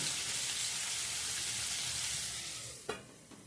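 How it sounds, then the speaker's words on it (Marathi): Bell pepper and gram flour vegetable cooks in a pan on a low flame, giving a soft, continuous sizzle close by with one brief clink near the end and no speech. "मीडियम गॅस किंवा अगदी स्लो गॅस करून आपल्याला भाजी शिजू द्यायची आहे."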